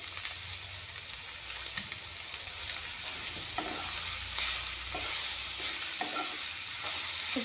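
Capsicum frying in a hot pan while being stirred: a steady hiss of sizzling oil runs throughout, broken by repeated scraping strokes from the spoon at a loose, uneven rhythm.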